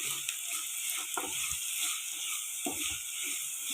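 Masala frying in a pan for Kerala fish curry hisses steadily while a spoon stirs it, adding scattered scraping and clicking strokes; close and fairly quiet.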